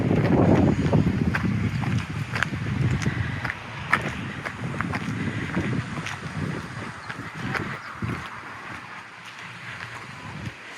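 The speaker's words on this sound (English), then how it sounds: "it's very windy." Gusty wind buffeting a microphone outdoors at night beside a 2015 Hyundai Elantra GL sedan, a continuous rough roar with repeated bursts and no talking.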